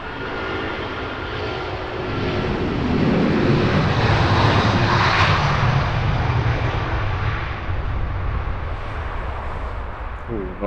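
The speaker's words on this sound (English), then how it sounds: "Nice Turkish Airlines A330 roll in." Turkish Airlines Airbus A330 takes off from Heathrow with a loud, sustained engine roar that swells to a peak midway and then slowly fades as the jet climbs away.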